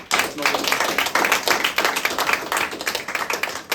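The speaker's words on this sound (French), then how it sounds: "Morgane qui fait un travail formidable à la régie, on peut l'applaudir" Theatre audience at a Kaamelott stage show in Paris clapping for the stage manager, a close, full round of rhythmic applause with a speaking voice mixed in.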